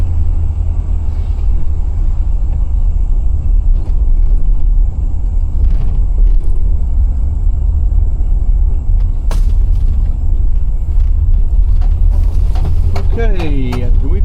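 A 1998 Chevrolet Express 3500 extended passenger van driving, with a loud constant low road and engine rumble throughout and a voice speaking over it near the end.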